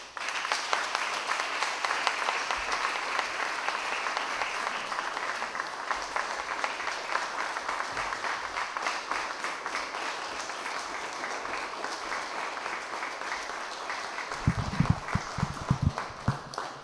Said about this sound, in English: Let's give another round of applause to those amazing peace builders.